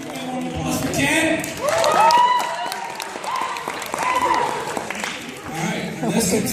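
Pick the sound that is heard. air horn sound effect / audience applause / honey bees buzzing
audience applause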